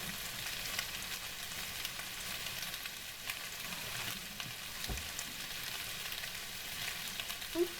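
Beef pieces for a spicy beef dish fry in a pan, giving a steady, quiet crackling sizzle throughout with a few small pops, heard alone without talk.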